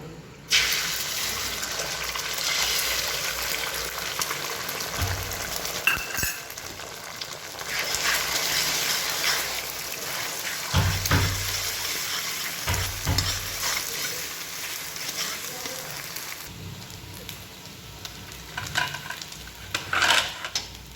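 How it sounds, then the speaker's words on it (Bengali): Eggs fry in a little oil in a hot wok-style pan, giving a steady close sizzle and crackle that runs throughout with brief stirring and scraping bursts and a few sharper pops. "এবার ডিমগুলোকে আমরা ফ্রাই করে নেব।"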